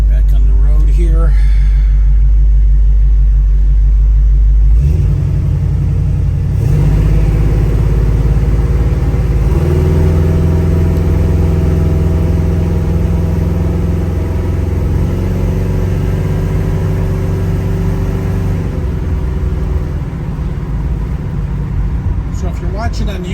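A 1972 Chevrolet Nova with a 427 engine pulls onto the road, its loud, deep V8 rumbling close and rising through several revs as it accelerates, with someone talking over the engine.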